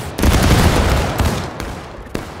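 A loud ragged volley of infantry musket fire in Smoke & Steel, a dense burst of overlapping shots followed by a few scattered late cracks, close and dominant with no voices.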